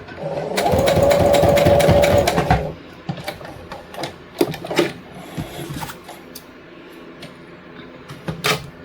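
A sewing machine backstitches a fabric lanyard, a loud fast whirring run for a couple of seconds, followed by scattered clicks and handling noises.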